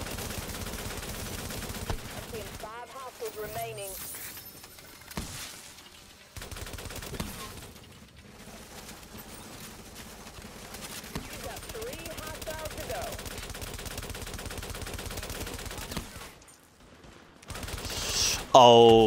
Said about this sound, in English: Oh god. I'm shooting it.